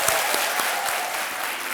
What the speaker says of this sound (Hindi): ताली बजती रही सईदा के लिए.